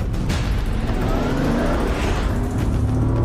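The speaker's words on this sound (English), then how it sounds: "That's just a nice Bentley Surge." A heavy four-wheel-drive Bentley Flying Spur accelerates hard on a closed stretch of road, its engine roaring steadily and loudly close by for a few seconds with a continuous building rumble.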